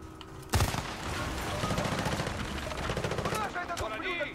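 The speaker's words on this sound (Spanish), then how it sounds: "Hay disparos aún." Gunfire in the video game Battlefield Bad Company 2, a sudden loud burst followed by rapid automatic shots and crackling fire across the clip, with people talking over it.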